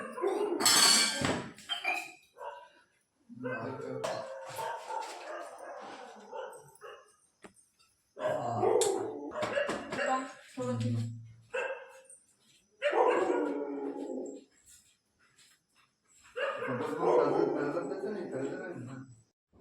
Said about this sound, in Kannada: ನಾಯಿ ಇದು ಮಾಡತ್ತವ ಒದರ್ತಾವ ಒದರ್ತಾವ